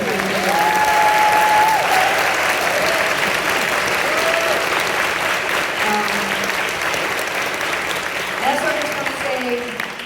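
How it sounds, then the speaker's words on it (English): Sustained crowd applause fills a church hall at a Tegan and Sara book event in Vancouver, steady and loud throughout, with cheering voices and whoops rising above the clapping. "a huge round of applause for our mom Sonia for doing this"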